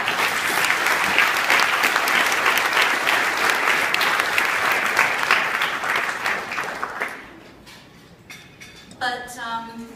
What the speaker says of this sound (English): So if everybody could give Catherine one more round of applause.